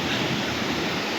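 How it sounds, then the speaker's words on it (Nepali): The Rimbi Khola, a stream, rushes in a steady, loud wash of flowing water close by, with no breaks and no voices. "यो चाहिँ खोला है।"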